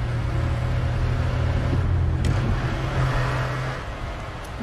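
A car drives with a steady, loud low engine rumble that swells slightly as it accelerates, heard from inside the vehicle with no talking.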